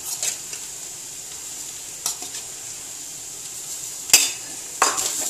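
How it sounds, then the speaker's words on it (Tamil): Grated coconut, coriander seeds and chana dal dry roast in a pan, a soft steady sizzle broken by a few sharp metallic scrapes and clinks of a spatula against the pan. "இதோட சேர்த்து நல்லா வறுத்துக்கணும்"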